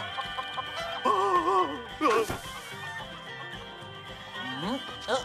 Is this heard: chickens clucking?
yes